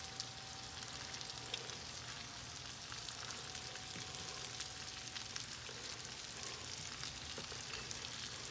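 Shrimp for shrimp scampi sizzle steadily in a hot pan, a continuous bright crackle with scattered pops that holds evenly from start to finish, close up and with no talking.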